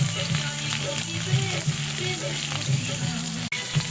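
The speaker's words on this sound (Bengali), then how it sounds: "দেখো তেলের মধ্যে এবার সয়াবিনগুলো দিয়ে একটু নুন দিয়ে ভেজে নেব" Soybean chunks fry in hot oil with salt, a loud steady close sizzle running throughout beneath a person talking.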